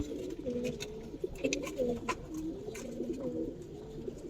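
Pigeons on a coloured-pigeon farm in Bangladesh coo steadily in low, rolling, overlapping calls, close and fairly loud, with faint clicks and rustles behind them and no talking.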